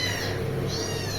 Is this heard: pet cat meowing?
yes